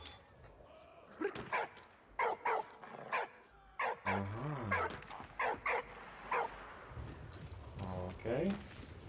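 A dog in the video game Valiant Hearts: The Great War barks and yips in short bursts mixed with whimpers, loud and close, alongside game voices talking.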